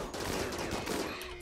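Rapid bursts of gunfire from the colony-building game Rimworld, Alpha 16 modded, fired in a dense, continuous volley that stays loud and steady throughout, with no talking.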